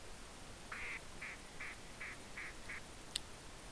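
Mallard long-range duck call in theHunter Classic, six short, evenly spaced nasal quacks in a quick descending series, faint and alone over a low background hiss, then a brief sharp click.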